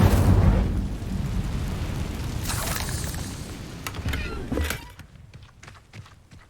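In Hogwarts Legacy, an Incendio fire spell bursts with a loud whooshing blast that rolls into a crackling rumble, then fades to scattered pops and flickers.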